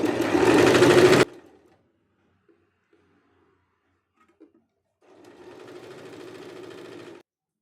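A sewing machine stitches a double-folded sleeve hem on a kurti in a loud, steady burst, stops into near silence with a few faint clicks, then runs again more softly for a second stretch.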